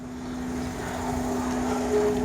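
A steady Honda car engine hum with a constant, abnormal buzzing drone at idle, faint and unchanging, with no voices.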